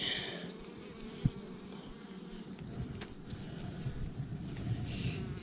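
Honeybees buzz steadily around an open beehive, a soft continuous drone close by with one brief knock partway through and no talking.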